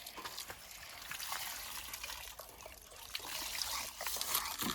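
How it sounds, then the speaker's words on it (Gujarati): Water trickles faintly into a 300 litre tank, a soft, steady thin flow of liquid heard close but quiet, with no talking. "હજી પાણી થોડુંક આવશે આમાં."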